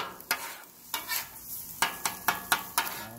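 Food cooking on a hot grill as part of a quick diner-style meal, heard as a soft background sizzle broken by a series of sharp, close scrapes and clinks of a utensil at an irregular rhythm.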